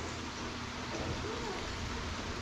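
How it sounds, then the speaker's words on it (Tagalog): Steady rain falls on a building site with a new concrete floor drain, a dense even hiss throughout, with faint voices in the background. "Ay, naku, umulan pa."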